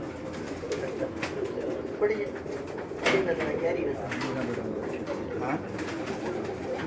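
Breeder pigeons coo steadily at close range in a loft, their low rolling calls continuing throughout, with a voice speaking briefly over them.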